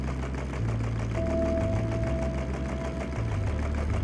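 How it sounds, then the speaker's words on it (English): A small solenoid engine drives a working Lego crane through a big belt and a main line shaft, giving a steady, close mechanical chugging with a fast regular beat and a faint whine, heard alone. "It has a main line shaft, which is powered by the engine through a big belt."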